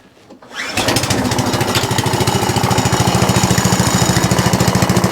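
An Atco Balmoral reel lawn mower with a noise problem: after a brief quiet, the petrol engine catches and runs loud and close with a fast, steady, knocking pulse.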